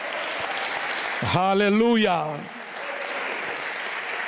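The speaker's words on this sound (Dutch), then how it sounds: "Kunnen we de Heere een applaus geven." Church congregation applause during a Dutch-language worship service, a steady wash of clapping throughout with one voice loudly calling out over it near the middle.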